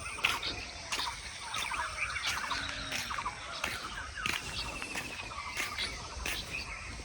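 Several birds chirp and twitter in quick overlapping bursts in the early morning beside a river, some close and some farther off, over a soft outdoor background with occasional sharp clicks.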